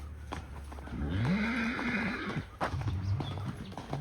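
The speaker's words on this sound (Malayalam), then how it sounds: "രസമാണ് കുതിരകളിങ്ങനെ അങ്ങോട്ടും ഇങ്ങോട്ടും കാണുമ്പോൾ" Racehorses move about nearby, with a loud, drawn-out neigh rising and falling over a second or so, followed by scattered hoof clops and shuffling.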